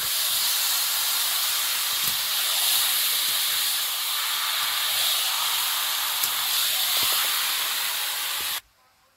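Marinated meat sizzles in a hot pan during outdoor cooking, a loud, steady hiss with faint pops that carries on for several seconds and then cuts off sharply.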